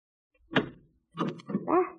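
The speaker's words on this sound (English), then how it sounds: "I'm going to try the door." Radio-drama effect of a stuck door being shoved open: a single dull thump, then a second scraping push ending in a creaking groan as it gives a little, close and fairly quiet.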